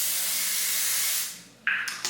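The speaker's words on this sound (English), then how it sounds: "let me spray this. I'm using the Gots to Be glue spray." Got2b Glue hair spray sprays in a loud, steady aerosol hiss for over a second, then tapers off, followed by two short, sharp bursts close to the mic.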